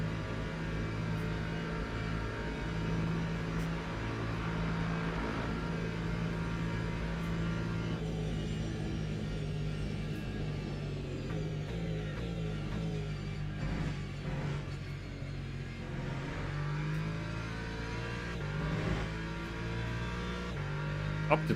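Racing video game engines drone continuously, with a steady high-revving whine that shifts pitch through gear changes and slipstreaming behind a rival car, loud and unbroken, with occasional faint talk underneath.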